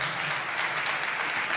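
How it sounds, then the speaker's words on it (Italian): An audience applauds at a political gathering, a dense, even wash of clapping that fills the whole short moment with no voices over it. "Gli facciamo anche un applauso"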